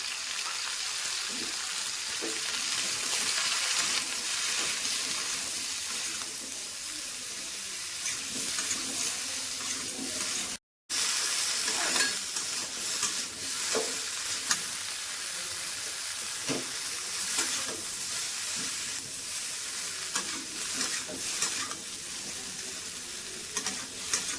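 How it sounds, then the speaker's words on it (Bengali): Cauliflower and potatoes fry with salt, turmeric and chilli powder in a pan, giving a continuous close sizzle with scattered scraping and stirring clicks and a brief gap partway through. "ফুলকপি আলুগুলো হালকা করে ভাজা হয়ে গেছে"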